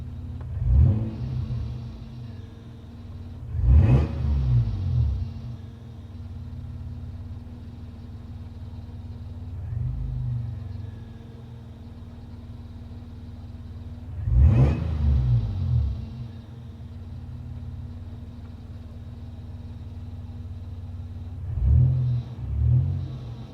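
Toyota 3.4L V6 with a supercharger idling, a low steady rumble overlaid with a faint hiss like radio static, broken by a few short rev blips at intervals, heard close with no talking.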